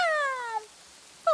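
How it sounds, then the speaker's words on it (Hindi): A black cat in a cartoon gives a drawn-out, falling meow, then a second meow starts right after a short gap, loud and close. "कौवा वहाँ बैठा हुआ था कि एक काली बिल्ली वहाँ आ जाती है।"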